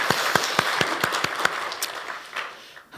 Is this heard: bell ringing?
no